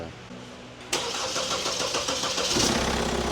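A Kia Carnival minivan engine, just repaired for a hoof-like knocking noise, cranks and catches abruptly after a quiet start, then settles into a steady running idle with a rough, rhythmic chug, close by.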